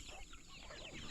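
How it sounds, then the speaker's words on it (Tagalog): Chickens on a farm cluck in a brief, faint burst of scratchy bird calls, heard quietly from a little distance. "Daming manok, oh."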